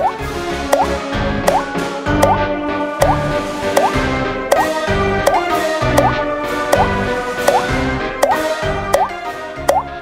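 A leaking tap drips into a sink in a steady rhythm, one plop roughly every three-quarters of a second, close and distinct over soft sustained musical tones.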